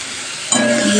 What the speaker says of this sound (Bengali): তেলে চিংড়ি দিয়ে দিয়েছি ওর উপরে নুন হলুদ মশলা সব দিয়ে দিয়েছি দিয়ে এগুলো ভাজা ভাজা করছি